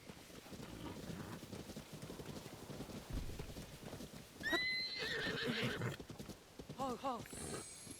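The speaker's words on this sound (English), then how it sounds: "Bunch of horses over here." Horses in The Legend of Zelda: Tears of the Kingdom whinny twice amid clip-clop hoofbeats and wind in an open field, with someone talking quietly over the game sounds.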